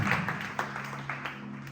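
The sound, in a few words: church congregation applause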